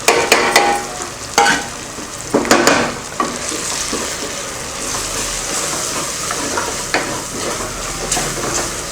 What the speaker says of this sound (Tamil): மசாலையெல்லாம் போட்டு நல்லா வதக்கியாச்சு